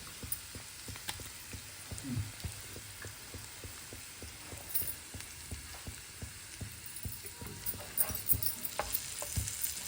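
Garlic sautéing in butter in a pan for masala pav, a steady crackling sizzle with rhythmic stirring taps throughout, close and moderately loud, with no talk.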